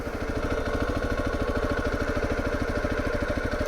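A Zontes T2 310 motorcycle creeps along slowly on a feathered clutch, its single-cylinder engine thumping in a steady, even low pulse close by, with no voices.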